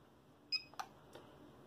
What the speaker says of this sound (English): Beep, and it's on.